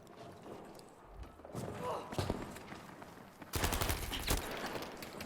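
Gunfire in a Battlefield V 5v5 squad conquest match on PS4: scattered single shots, then a dense burst of rapid automatic fire near the end, with faint footsteps between them. It plays at low level.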